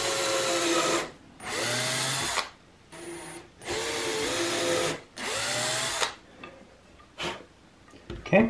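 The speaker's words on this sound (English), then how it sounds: "now I can use a very small drill bit to pre-drill here." A power drill whirs in five short bursts separated by brief pauses, close and steady, pre-drilling oak with a very small bit, followed by a few faint clicks and taps.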